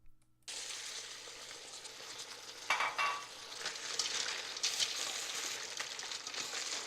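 Mussels simmer in coconut milk in a pot, giving a steady soft sizzle and bubbling, with a few scraping, clinking stirs in the middle; faint and close, with no voices.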